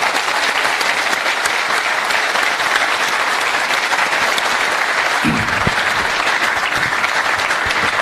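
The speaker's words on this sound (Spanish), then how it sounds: "Un aplauso. Háganlo." An audience at a talk or panel event breaks into sustained, dense applause that stays loud and even throughout.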